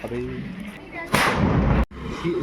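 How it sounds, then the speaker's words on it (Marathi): A large firecracker bomb set off in front of a house during an election victory celebration bursts loudly and close, with a sustained roaring blast of about seven-tenths of a second that cuts off sharply, amid background voices. "आता आम्ही पण आमच्या एरियामध्ये घरासमोर बॉम्ब लावलेला आहे."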